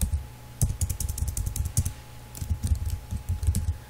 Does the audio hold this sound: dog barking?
no